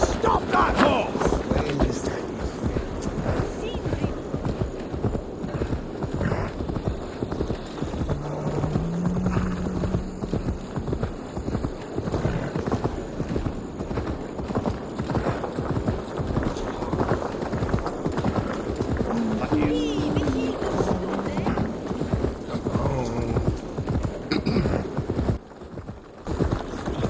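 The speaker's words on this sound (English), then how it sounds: "Stop that horse!" Rapid, rhythmic clip-clop of a horse galloping in the Assassin's Creed Valhalla video game, loud and continuous for nearly half a minute, with brief shouted voices and a whinny partway through.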